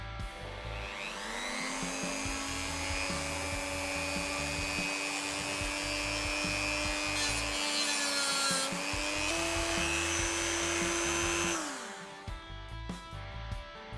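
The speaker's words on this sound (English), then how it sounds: "just take a Dremel and cut these with a cut-off disc" Dremel with a cut-off disc slicing through stainless steel fret tangs on a Firebird guitar neck, a continuous high whine with grinding hiss that holds steady for about ten seconds, then stops abruptly, leaving faint scraping.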